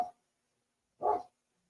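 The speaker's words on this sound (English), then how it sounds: "Pay no attention to that dog outside." A dog outside gives two short, loud barks about a second apart, separated by silence.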